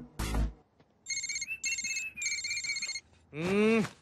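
A mobile phone ringtone sounds for an incoming call: a repeating electronic melody in three short bursts, loud and close. A voice is heard briefly before it and another voice speaks right after.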